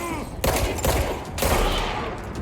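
Video-game gunfire in Control, two loud sustained bursts of rapid shots with a brief gap between, close and dense.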